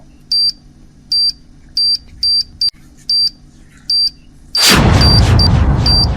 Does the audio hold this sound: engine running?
no